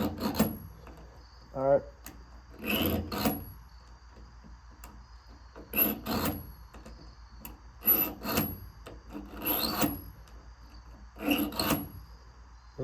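Zwickey four-blade broadhead edges drawn across a sharpener in short rasping strokes, several separate bursts of filing-like scraping with pauses between, close and moderately loud, with a brief spoken remark early on.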